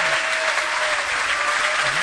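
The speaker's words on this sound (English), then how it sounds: "This team got a great cheer." A crowd at a youth sports academy games event applauds the Western Region team, a brief, loud, continuous burst of many clapping hands filling the space for about two seconds.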